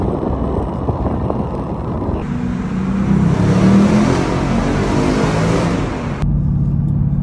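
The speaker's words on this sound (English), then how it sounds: "So we're cruising in the car right now." A supercharged Ford S550 car cruising down the road, heard from inside as a constant engine and road drone that swells louder in the middle stretch and then eases back, with no voices.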